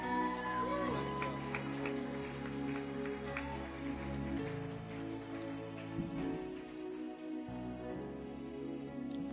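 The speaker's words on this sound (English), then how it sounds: "Give him a hand clap of praise" A church congregation claps hands in praise over sustained organ or keyboard chords, a dense, steady patter of many hands running throughout at moderate loudness.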